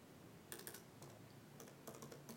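Keys tapped on a computer keyboard while a password is entered during wireless adapter setup, a quick cluster of light clicks followed by a pause and a second burst, fairly faint and close with no talking.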